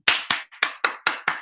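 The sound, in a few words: applause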